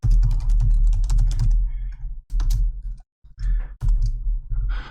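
Code is typed on a computer keyboard in quick clattering bursts of close, loud keystrokes with short pauses between runs.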